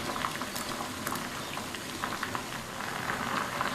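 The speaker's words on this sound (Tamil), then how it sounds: "இப்போ மறுபடியும் தண்ணி நல்லா தளன்னு கொதிக்குது." Water boils vigorously in a pot for cooking kozhukattai dumplings, a steady dense bubbling and popping at moderate level, heard alone without talk.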